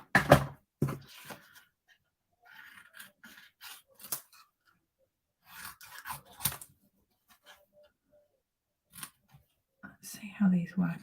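Scissors trimming small pieces of stamped papaya and crumb cake cardstock for a card, crisp snips in short bursts with pauses between, soft whispery speech heard between cuts.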